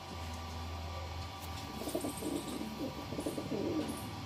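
Deobandi pigeons coo close by, a run of soft, low, throaty calls over a steady background hum.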